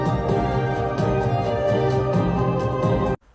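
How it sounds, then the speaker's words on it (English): Smooth, sustained bowed strings play a connected melody, notes flowing into each other at full volume before cutting off abruptly. "in Penelope's music, she has a lot of legato strings"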